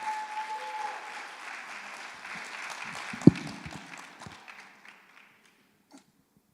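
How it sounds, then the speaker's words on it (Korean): Warm applause from a church conference congregation at a Salvation Army gathering in Korea, welcoming an officer to the stage. The clapping is fairly soft at first, then fades out over several seconds, leaving a few scattered claps and near-silence. "우리 뜨거운 박수로 맞이하겠습니다"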